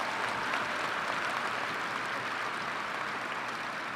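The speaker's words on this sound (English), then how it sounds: "now one round of applause for these official party members" Sustained audience applause at a UW–Madison winter commencement ceremony, a steady, dense wash of clapping from a large crowd filling the hall at an even level throughout.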